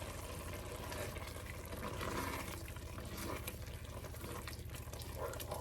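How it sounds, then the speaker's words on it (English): Vegetarian bolognese sauce bubbles steadily in a pot, giving a continuous soft simmering hiss with faint pops throughout and no talking. "Oh, it's bubbling nicely."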